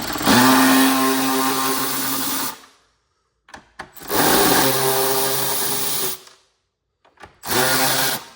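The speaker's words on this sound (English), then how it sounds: "We're just gonna go ahead with our Milwaukee, get all those loose." Milwaukee power tool loosening 7 mm bolts on a Ford side mirror, three loud close whirring runs of a few seconds each, separated by short silences with faint clicks.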